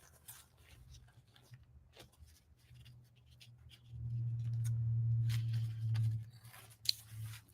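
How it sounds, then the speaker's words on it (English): Scissors snip paper squares for a craft piece with quiet, scattered cuts and rustles, then a low steady hum swells in the latter half under the soft cutting. "I'm going to go ahead and cut my squares out here"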